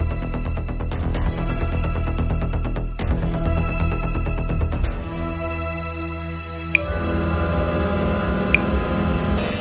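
A phone rings with rapid, rattling bell bursts repeating over several seconds, fairly loud against a busy mechanical background.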